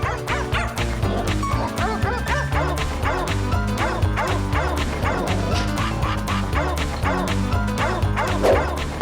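A dog yips, barks and whimpers repeatedly in short, rhythmic bursts, close and loud, over a steady low background.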